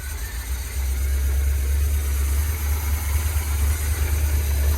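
A 1972 Winnebago Brave motorhome engine idles loudly and close, a steady deep rumble with a constant low drone and no voices.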